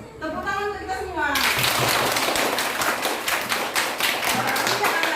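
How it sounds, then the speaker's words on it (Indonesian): Classroom of children clapping hands together, starting after a teacher's voice with a burst of sharp, close claps that continues loudly for several seconds. "Tepuk tangan untuk kita semua."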